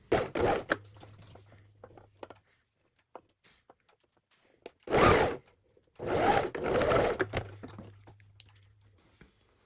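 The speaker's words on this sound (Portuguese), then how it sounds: "aí a gente recomeça a costura aqui no último pontinho e vem até o pique" A sewing machine stitching a pajama collar runs in short bursts separated by near-silence, with small clicks and handling noises between the runs, close by and fairly loud.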